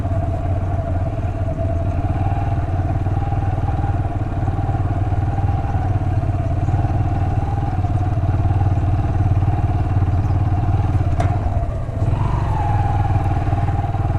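Motorcycle riding slowly over a fine-dust dirt track in Kirthar National Park after monsoon rains, its mid-pitched engine droning steadily and close with a constant whir and some clatter.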